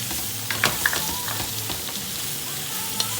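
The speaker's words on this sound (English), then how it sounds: "next I'm going to add the carrots and celery" Big chunks of carrot and celery sauteing in a pot for beef stew, a steady close sizzle with occasional crackles and spoon taps.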